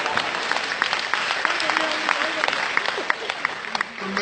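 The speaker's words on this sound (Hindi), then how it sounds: "यार आपको अच्छी तालियां बजानी चाहिए" Audience applause at a comedy performance, a steady crowd clapping throughout with a voice speaking over it.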